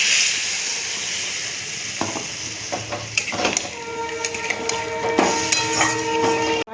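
Water poured into a pan of fried spice paste for a curry sets off a sharp crackling hiss over steady frying sizzle, with stirring clinks and scrapes following.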